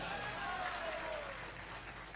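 An audience at a Hindi humorous poetry recital (kavi sammelan) claps in a steady, moderately distant wash of applause that holds evenly through the moment.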